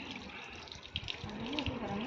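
Water pouring and dripping into a bucket during a Hindu festival ritual, a continuous splashing trickle with a faint voice in the background.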